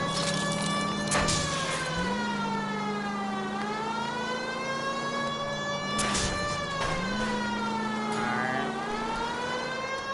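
A police car siren in the video game L.A. Noire wails loudly, its pitch sweeping up and down in long, repeated cycles with no talking over it.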